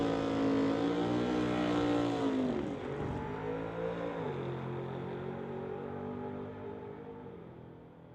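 A Horizon Paint Chevy II drag car makes a drag racing run: a loud, sustained engine roar with pitch drops at gear shifts. The roar gradually fades as the car pulls away.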